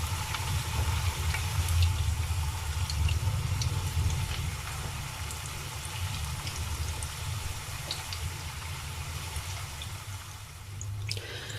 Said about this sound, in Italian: Cominciamo a friggere le nostre polpette.